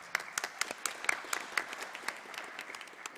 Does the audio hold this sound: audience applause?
yes